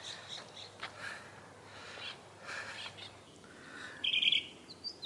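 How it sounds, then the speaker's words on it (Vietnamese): A pair of ground doves call outdoors in the US, giving soft scattered coos and chirps at moderate distance over a quiet background, with a slightly louder burst near the end. "Đây có hai con chim đất,"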